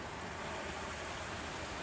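Ocean waves wash in a steady, soft, broadband hiss of surf, continuous and even with no distinct breaks, calm and low in level.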